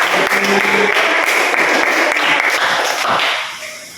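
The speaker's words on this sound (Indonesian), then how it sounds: "Berikan applause untuk Denny." Applause from a classroom audience after a student's presentation, dense sustained clapping that holds steady for about three seconds then tapers off.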